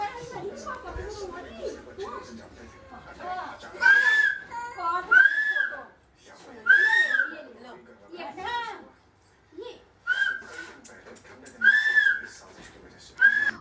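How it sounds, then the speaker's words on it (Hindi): A woman whistles loudly in several short, rising-and-falling bursts, the kind of whistle heard in a movie theater, spaced a second or two apart, with people chattering and a voice mixed in around the whistles. "मम्मी पहले मूवी देखने जाती थी तो सीटी बजाती थी।"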